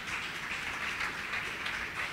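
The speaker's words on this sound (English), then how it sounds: "Clap your hand for Jesus." Church congregation clapping hands during a revival sermon, a soft, steady wash of many hands heard from a distance, faint and without voices.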